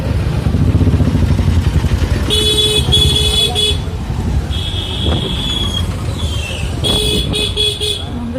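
Heavy traffic jam after two trains passed through a level crossing, with several car horns honking in bursts over a constant rumble of idling engines and motorcycles, loud and close.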